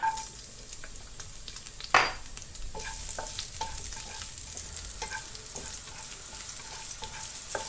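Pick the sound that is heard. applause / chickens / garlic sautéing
garlic sautéing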